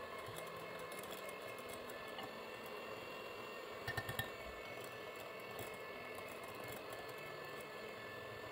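An electric mixer whips butter with condensed milk into cream, a faint, continuous motor whir that stays steady throughout, with a brief clattering flutter near the middle.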